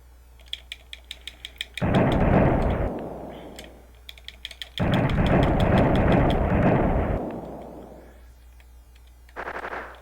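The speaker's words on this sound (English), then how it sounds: "Even more of these exploding mice." Exploding mouse enemies in the video game Flashback set off two long, loud, crackling bursts of noise, each lasting a few seconds, between quick ticking game clicks, with a third short burst at the end.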